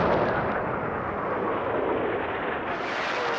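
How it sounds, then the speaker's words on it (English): Allied artillery bombardment at dawn on June 6, 1944 in Normandy, heard as a continuous loud roar of distant massed gunfire rumbling steadily with no distinct separate shots. "The Allied bombardment opens up."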